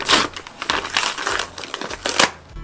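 A bag of flour torn open in a kitchen making a giant Raffaello cake: close, loud paper or plastic crinkling and crumpling in irregular bursts over a few seconds, with no voices.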